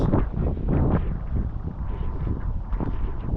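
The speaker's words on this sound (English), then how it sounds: "Now I can feel wind getting up." Wind buffets the microphone in heavy, uneven low rumbling gusts that roar and thump continuously.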